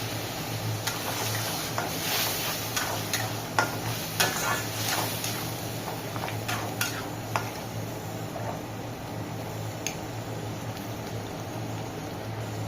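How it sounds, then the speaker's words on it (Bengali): Red chickpea masala sizzles loudly and steadily in a pan after water is poured in, with a spoon scraping and clicking against the pan throughout the continuous frying hiss. "মশলাটা সব জলটা দিয়ে দিলাম।"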